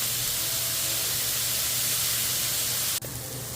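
Steak seasoned with Greek seasoning sizzling on a STEELMADE flat top grill, a loud continuous hiss with a brief dip near the end, no voices.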